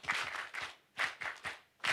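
Audience at a development conference in Uganda clapping in short, sharp bursts, several separate groups of claps with brief pauses between them, loud and close with no talking.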